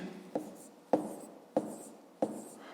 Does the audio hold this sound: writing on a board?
yes